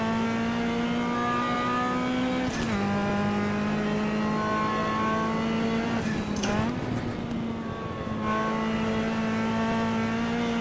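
A race car engine in a sim racing video game at Spa's Eau Rouge: a loud, steady, high-pitched drone that dips briefly twice as gears shift, with no talk over it.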